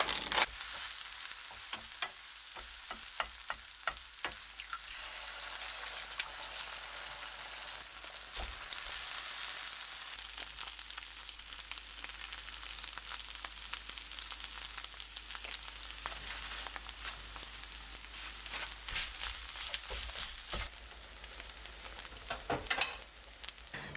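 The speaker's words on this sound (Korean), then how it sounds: "파 넣고 볶음밥 한번 해볼게요" Fried rice with chopped green onions stir-fried in a pan, a crackling sizzle with repeated sharp clicks of a utensil against the pan early on, then a steady hiss, close and fairly quiet.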